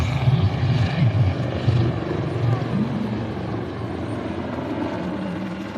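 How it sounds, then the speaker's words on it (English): A Royal Navy Wildcat multi-role helicopter flying at a coastal air festival, its rotor and engine a steady rumbling drone with rhythmic low thumps, under a commentator's voice and crowd noise. "is the latest generation of the multi-role helicopter that's been specifically procured to operate from the frigates and destroyers of the Royal Navy"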